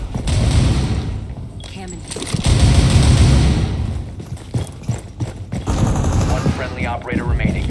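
Automatic gunfire and explosive booms from the video game Rainbow Six Siege come in loud, rapid bursts with brief pauses, while players talk over the action.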